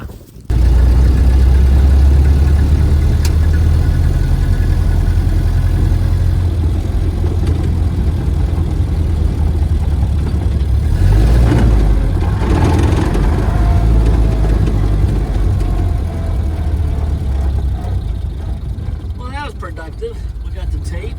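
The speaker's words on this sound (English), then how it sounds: "So I'm downshifting, going through the gears" The engine of a 1901 Oldsmobile runs loud and close in a continuous low chug, its pitch shifting slightly as the driver downshifts through the gears.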